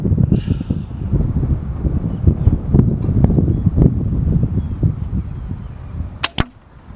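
Steady outdoor wind blowing across the microphone as a broad, continuous rumble, with two sharp cracks near the end from a Gunpower Shadow .22 air rifle.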